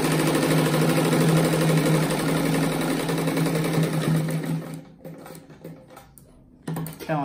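A sewing machine runs fast and steady, backstitching denim strips for a patchwork rug, with a dense whirring rattle that stops briefly near the end before starting again, close and loud.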